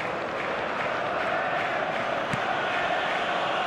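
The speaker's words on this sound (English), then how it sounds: "Crowd appreciates good football all round there." A stadium crowd in the football video game eFootball 2022, at a Manchester City versus Arsenal match, murmurs and cheers in a steady, continuous roar of distant voices.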